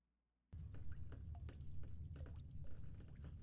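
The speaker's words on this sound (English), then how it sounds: "The ceiling is leaking with water." Water leaking from the ceiling inside a building in The Stanley Parable: Ultra Deluxe starts abruptly, a steady pouring trickle with scattered drips over a low rumble, continuous and fairly close.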